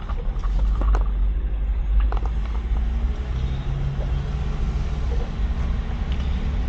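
A Jeep Wrangler JL pulling away, its engine a steady low rumble with road noise underneath, fairly loud and constant throughout without any voices.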